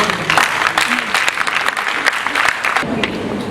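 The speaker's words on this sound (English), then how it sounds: "With a round of applause." Audience applause greeting a lecturer from the School of Communication Studies at Wisconsin International, a steady wash of clapping that holds for a few seconds at fairly loud level, with no speech over it.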